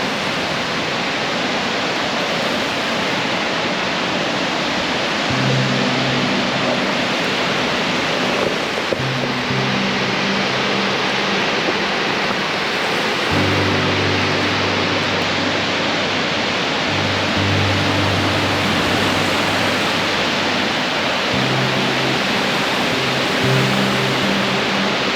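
White Waterfalls on a Georgia trail roars continuously, a dense close rush of falling water with low hum-like tones drifting underneath, no voices over the steady wash.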